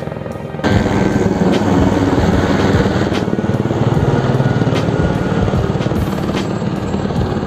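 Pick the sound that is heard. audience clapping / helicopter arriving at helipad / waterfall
helicopter arriving at helipad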